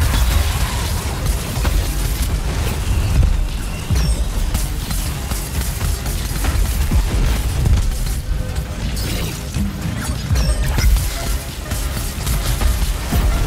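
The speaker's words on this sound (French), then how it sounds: "Avec l'explosion." Explosions and crashing impacts in the video game Dauntless on a Gauntlet run with a pike weapon, a dense noisy stretch of repeated booms and bursts with no pauses.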